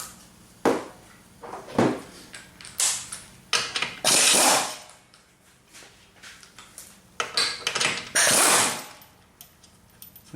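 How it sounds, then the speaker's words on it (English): Bolts being loosened with a ratcheting wrench on a Lincoln jack pump assembly during a U-joint installation, giving repeated bursts of metallic ratchet clicks and clanks with short pauses between them, close and fairly loud. "I'm just loosening these bolts, kind of leaving this together."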